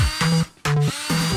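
An electric drill runs in short loud bursts close by, whirring up and cutting off three times with a brief gap between, no talking.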